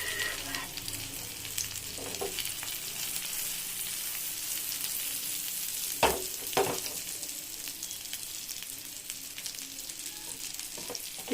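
A vegetable omelette cooking in a pan, a soft steady sizzle running throughout, broken by a few sharp clicks and knocks of utensils near the middle, close and with no talk.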